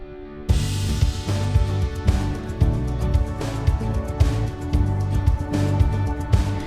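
A full, loud pop chorus kicks in with driving drums, bass and layered harmonic instruments, crashing cymbals on a steady beat.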